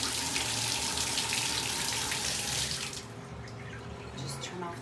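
Tap water runs in a steady splashing stream, then is shut off partway through, leaving quieter room sound with faint clinks.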